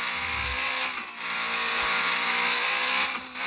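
A very fast car driving in a video game at close to 200 miles an hour, a loud, steady engine roar with a brief dip before it surges back to a sustained whine, without talking.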